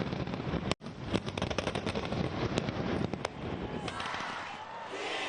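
Bangkok New Year's Eve fireworks: a dense, continuous barrage of loud cracks and booms with rapid crackling bursts, sounding close and filling the whole stretch.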